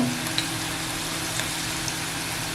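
Onion, potato and chilli bhaji fritters frying in hot oil during monsoon season, a dense, even hiss of bubbling sizzle with a few faint pops, close and steady with no talk.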